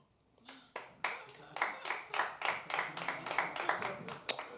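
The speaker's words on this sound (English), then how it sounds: "Don't know why y'all clap for that" A small audience at a comedy set during an open music session claps. A few scattered claps build into moderate, fairly soft applause that sounds close, with a voice faintly present.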